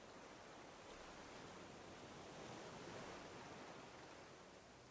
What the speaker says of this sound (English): I could relax with like the sound of the waves in the background for hours and hours.